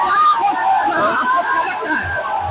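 A crowd gathered at an election campaign rally in Bihar cheers and shouts in bursts, a dense babble of voices rising and falling close by, with a voice speaking over them.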